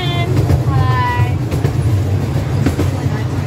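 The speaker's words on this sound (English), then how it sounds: "safari train at the Milwaukee Zoo, and it is going lickety split." A safari train at the Milwaukee Zoo runs at speed, giving a loud, continuous rumble with rhythmic wheel clatter heard from aboard a car, and a brief tonal sound near the start.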